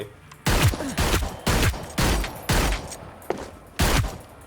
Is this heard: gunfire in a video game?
yes